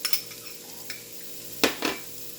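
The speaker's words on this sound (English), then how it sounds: "I'm going to go ahead and add my garlic now." Garlic dropped into a hot pot for potato soup, giving short sizzles and a few scraping stirs of a utensil against the pan, two sharp louder bursts near the end over a quiet hiss.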